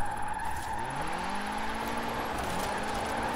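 A car drifts on a drying track in Forza Horizon 4, its engine drone rising and falling in pitch over a continuous smeared tire-skid hiss, steady and loud with no voices.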